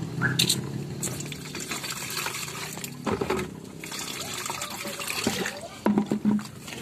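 Leftover homemade fermented herbal liquid fertilizer poured onto a guava tree, a close, uneven trickle and splash of liquid with a few brief bursts, while a person talks intermittently.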